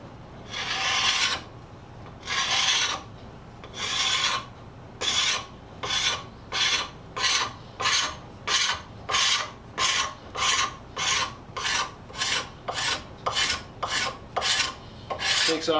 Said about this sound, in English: I've tried lots of things getting varnish off, but this scraper seems to do the best job.